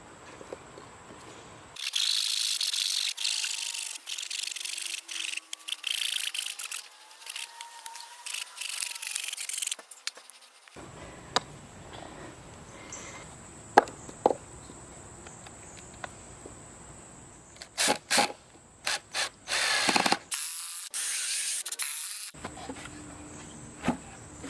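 Hand sawing through a piece of reclaimed pallet wood for a DIY garden planter, with bursts of rasping strokes separated by pauses and a few sharp knocks, close and fairly loud.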